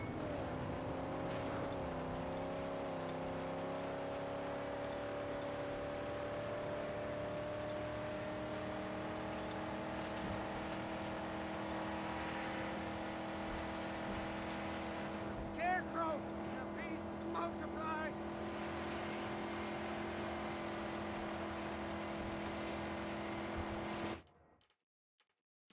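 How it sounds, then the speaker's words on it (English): A car engine droning as it drives in the Mad Max video game, a steady humming tone with slight pitch shifts, then cutting off abruptly near the end. "I'm gonna drive around"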